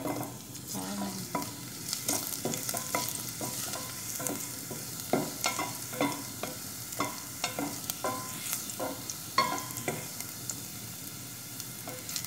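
Garlic sautés in a hot pan for a tuna and vegetable dish, a steady crackling sizzle with frequent brisk scrapes and taps of a spatula.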